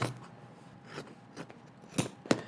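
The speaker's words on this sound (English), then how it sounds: "And now you wanna take your scissors and just cut that off." Several crisp snips from scissors cutting through the leg of denim jeans, spaced irregularly, with two sharper cuts near the end over a quiet background.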